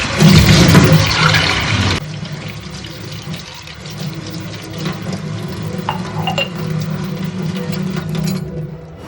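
A juice glass being washed under running water: a loud rush of tap water for the first two seconds, then quieter splashing and rinsing with faint clinks, close by.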